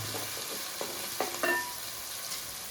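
Slit green chillies fry in hot oil in a pan, giving a steady soft sizzle with a few brief clinks and scrapes of a spoon.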